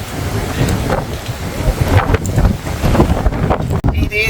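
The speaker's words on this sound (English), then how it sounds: "It is a windy day" Strong, gusty wind buffets the microphone on the open deck of the cruise ship P&O Arcadia at sea, with a constant low rumble and rushing air throughout.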